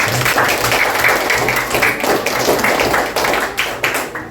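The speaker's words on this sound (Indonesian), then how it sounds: "ini tepuk tangan untuk Saka" Classroom pupils clap for a classmate, a dense steady patter of many hands lasting the whole stretch, close and loud, with a few sharper taps near the end.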